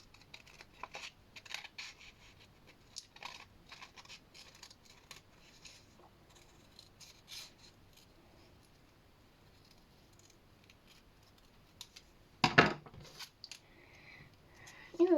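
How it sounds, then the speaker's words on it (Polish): Quiet, intermittent snips and paper rustles of scissors cutting, close by, with a louder crinkle near the end. "Zbierzemy nożyczki i wycinamy po śladzie."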